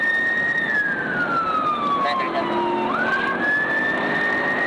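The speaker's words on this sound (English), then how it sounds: "Deputy McGuigan activated his lights and siren." A sheriff's deputy's patrol car siren wails steadily, with a tone sweeping slowly down and back up, loud over constant road and engine noise.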